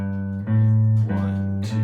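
Guitar picking a three-note scale sequence, a run of sustained, close notes changing every half second or so, clean and steady with no talking.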